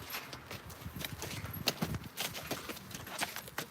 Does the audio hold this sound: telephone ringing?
no